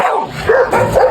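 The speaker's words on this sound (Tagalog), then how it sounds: "Ito ay Pocket Exotic Bully." A Pocket Exotic Bully dog barks close and loud, a quick run of two or three sharp, throaty barks with a whiny edge, heard alone.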